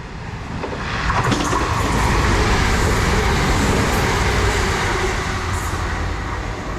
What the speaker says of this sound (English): passing through now is a turbo to Reading